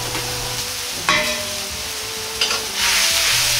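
Stirring and sizzling in a pan as salt and seasoning are lightly mixed together while making Jakarta-style curry ramen, a steady close frying hiss with a few scraping strokes, and no one speaking.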